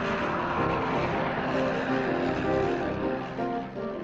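A propeller-driven trainer aircraft in flight gives a continuous droning engine hum with a steady tone, fairly loud and slightly fading near the end.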